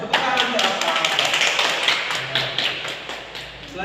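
Classroom applause during a microteaching science lesson, a dense crackle of many hands clapping together for about four seconds, steady and fairly loud, with voices mixed underneath.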